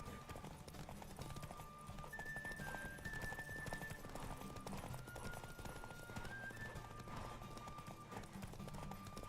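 Rapid rhythmic hoofbeats of a galloping horse in a Witcher 3 race pound steadily throughout, with a sustained musical tone and a faint voice in the mix.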